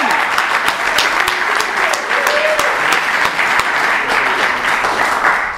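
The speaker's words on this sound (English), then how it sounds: "So give yourselves a round of applause for coming." Live comedy festival audience applauding, dense continuous clapping from a crowd that fills the whole stretch with a few faint voices mixed in.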